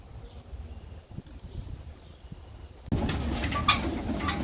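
Pigeons coo softly in a loft, low murmuring calls near the mic, followed by a louder burst of rustling and fluttering movement.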